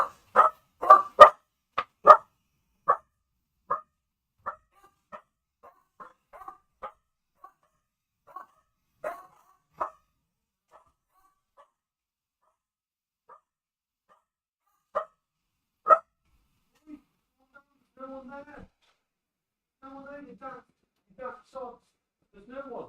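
Dogs bark at the front door in a loud burst of repeated barks early on, then scattered barks trailing off, with whimpering and yips toward the end; a person talks intermittently among them.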